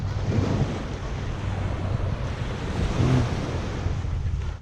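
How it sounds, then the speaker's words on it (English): Ocean surf breaking on a beach, a steady loud wash of waves with heavy wind buffeting the microphone, continuous with a slight swell near the end and no talking. "you can hear the waves crashing in"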